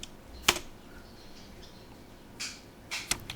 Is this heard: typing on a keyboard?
yes